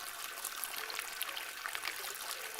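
Tap water running into a basin at home while a girl washes her face with hot water: a steady, soft splashing hiss at an even level, with no voices.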